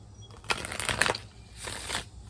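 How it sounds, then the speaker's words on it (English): A large deck of oracle cards is shuffled by hand in two riffling bursts, brisk and close, separated by a brief pause, with no voices. "One more shuffle, baby. We got a lot of cards"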